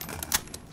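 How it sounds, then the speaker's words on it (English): A brief mechanical click-clack of a magazine swap in a Call of Duty Domination match, a few quick sharp metallic clicks close by. "Nope, swapping mags."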